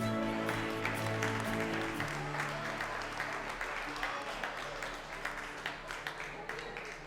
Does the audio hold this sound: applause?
yes